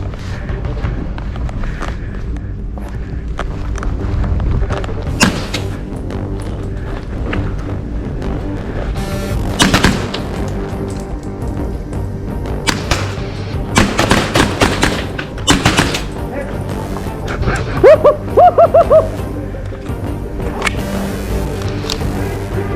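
Simunition marking rounds fired from sim guns during a force-on-force defensive drill, scattered sharp cracks and thumps in bursts and single shots, some close and loud, over a busy background of movement and clatter.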